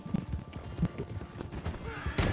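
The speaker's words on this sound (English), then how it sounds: "My horse is faster than yours." Horse galloping in a video game, a soft rhythmic clip-clop of hooves running under game sounds and low in-game noise, fairly faint throughout.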